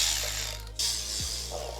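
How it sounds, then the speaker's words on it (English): A ratchet loosens 10mm bolts on the upper timing cover during a Mazda MA10ET timing belt replacement, giving a close, brief, quiet mechanical clicking over a steady low hum. "We have a few 10mm bolts that we have to remove to get that off of there."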